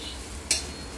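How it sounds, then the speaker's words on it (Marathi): Cut okra roasts on a griddle pan with a low continuous sizzle, broken by one sharp scrape or clink of a utensil midway. "कट केल्यानंतर ह्या भेंडीला आपण तव्यामध्ये टाकणार आहोत आणि हिला भाजून घ्यायचं आहे"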